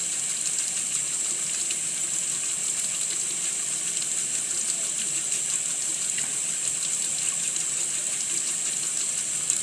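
Water runs steadily from a tap while a face is washed, a continuous close hiss with no pauses and no talking.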